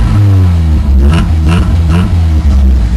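A car engine revving through its muffler, a loud, close, low throaty drone that rises and falls with rhythmic pulses, alone without talk.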